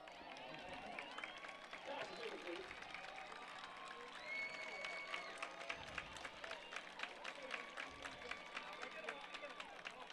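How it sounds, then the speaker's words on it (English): Crowd applause and scattered clapping in the stands at a high school football game between Wilmington and Burlington, steady and moderately distant, mixed with crowd noise and voices over the field. "You can hear the crowd applauding."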